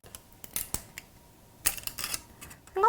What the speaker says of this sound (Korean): 이 공구들을 사용해서 뜯어볼게요